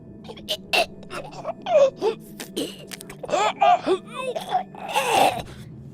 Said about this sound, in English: made the most horrible gasping sounds